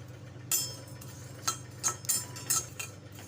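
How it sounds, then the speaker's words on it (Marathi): Flattened rice (poha) dry roasting in a pan, with a few sharp clinks and scrapes of a spatula against the metal at irregular intervals over a low steady hum, no talking. "आता एक मिनिटभर पोहे भाजून घेऊया आपण"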